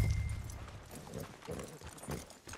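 Horse hooves clip-clop on the ground as a horse is led out of a stable in Red Dead Redemption 2, a few soft, uneven steps at moderate distance over low background rumble.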